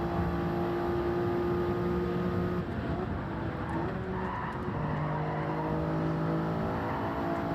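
A race car engine in Gran Turismo 7 drones at high, sustained revs, holding pitch and then shifting tone as gears change, with faint tire squeal under the constant loud roar.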